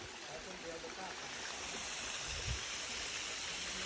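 Tat Ton waterfall at Ban Wai Hadi rushes with a steady, dense roar of falling water that fills the scene evenly, with a brief low thump partway through.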